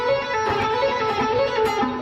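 A quick rock guitar lick on an electric guitar, with fast hammer-ons and pull-offs on the high strings that loop in a steady flurry of notes.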